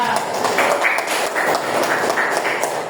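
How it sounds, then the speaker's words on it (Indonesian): Classroom applause for a student who answered correctly during a primary-school lesson, with steady mixed clapping and chatter from the children throughout. "Tepuk tangan Mbak Desta"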